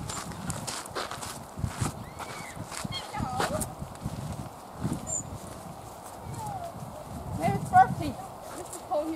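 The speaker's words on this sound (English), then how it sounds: "Beautiful horse." Hooves of a horse at the Irish National Stud clip-clop in scattered, uneven steps, fairly close, while people talk over and around them.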